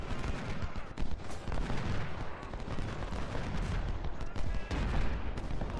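Dense, continuous battle noise from the American Civil War video game Ultimate General: Civil War, with rapid gunfire and heavy cannon blasts, loud and chaotic throughout, with voices faintly mixed in.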